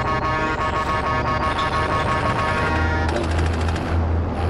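Rapid automatic gunfire from a Call of Duty match rattles on without a break, loud and close, with vehicle-like rumble and other game noise mixed in underneath.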